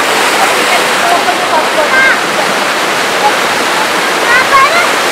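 Small waterfall at Bhatta Falls near Mussoorie splashing close up, a loud, steady broadband rush of falling water with faint higher bird-like chirps above it, no talk.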